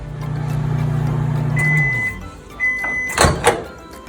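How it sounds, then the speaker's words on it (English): A low, steady microwave oven hum runs for about two seconds and then stops, followed by a couple of faint tones and short clicks and knocks. "put it in the microwave for about 30 seconds"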